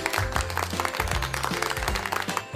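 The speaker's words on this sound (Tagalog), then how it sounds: "Narinig nga ni teacher ang malakas ninyong palakpak." A class of children claps loudly in a radio lesson, with bursts of rapid clapping mixed with cheering voices and a low musical tone underneath, close and lively.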